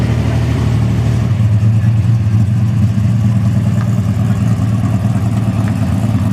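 A Chrysler Valiant Centura's engine runs at a car festival, with a deep, steady, rumbling drone that swells slightly in a loud, continuous sound with no talking over it.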